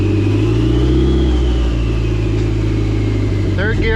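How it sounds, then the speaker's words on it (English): A Dodge SRT-4's engine hums steadily at a loud, close idle-to-cruise drone while the car jumps out of third gear, ending with a brief rev shift; a voice talks over it. "Third gear pop out."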